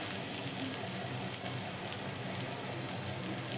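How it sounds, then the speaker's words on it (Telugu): Chopped onions fry in a pan, giving a steady, close, even sizzle with faint crackles and no voices. "ఉల్లిపాయలు బాగా వేగినాయండి"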